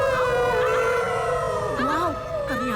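A cartoon dog lets out a loud, sustained howl into a megaphone, the long wavering tone sliding up and down in pitch, with voices joining in.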